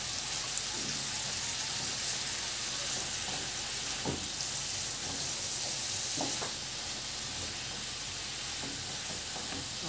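Ground meat sizzles and fries with bitter gourd (ampalaya) in a pan, a steady, loud crackling hiss that continues throughout, with occasional faint stirring clunks and no talking.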